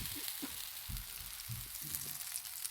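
Spiced desi-style pancake batter frying in a pan, spread by tilting the pan, gives a soft continuous sizzle with faint low knocks and scrapes, close and quiet, no voices.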